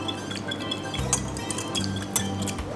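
A whisk stirs egg yolks into cake batter in a bowl, giving off steady metallic clinks and scraping against the sides, with soft wet swishing in between.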